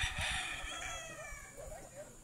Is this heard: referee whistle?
no